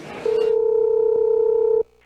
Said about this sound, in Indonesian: Kalau gitu, aku telepon sekarang deh.